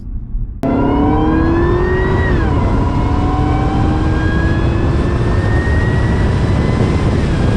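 A Cadillac CTS-V sedan's engine screams loudly under hard acceleration: the pitch rises, drops briefly at a gear change, then climbs again in a sustained high wail. No speech.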